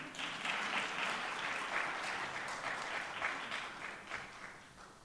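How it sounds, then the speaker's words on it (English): An audience claps for Brennan Sanders, a summer mentor, at the City of Little Rock Summer Youth Luncheon. The applause is steady and sustained for about five seconds, then thins slightly toward the end. "Y'all clap it up for Brennan."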